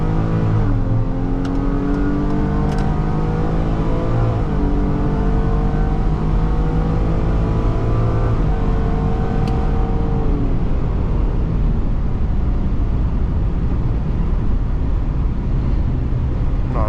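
A Ford Police Interceptor Utility Hybrid with a 3.3L engine accelerates hard, its loud engine note climbing in pitch through several gear changes under constant road and wind noise.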